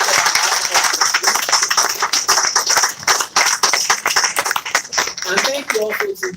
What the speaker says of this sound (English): may we please give a round of applause for all these newly elected ambassadors.